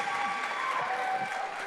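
Studio audience applause during a celebrity interview, a steady dense wash of clapping lasting the whole moment, fairly close and even in level.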